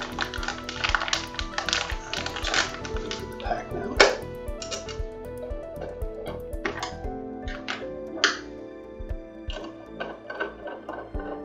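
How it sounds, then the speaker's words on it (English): Steel screws are turned by hand into an aluminum extrusion during an upgrade kit install, giving a steady run of small metallic taps and clicks, close and fairly loud, with a brief sharper knock partway through. "You are screwing steel screws into an aluminum extrusion"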